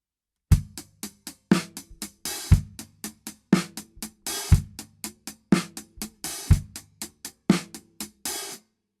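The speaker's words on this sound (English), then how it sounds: "you want to be opening the hi-hat on the ah of 2, not the and of 2" A drum kit plays a steady 16th-note groove of kick, snare and closed hi-hat, with the hi-hat opened on the "ah" of 2, washing out once in each bar, close and clear.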